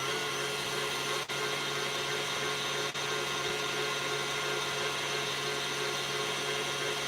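An electric mixer whirs steadily through pumpkin cheesecake batter with heavy cream, a constant motor hum with two brief dips, close and uninterrupted by voices.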